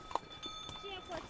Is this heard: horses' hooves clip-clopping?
yes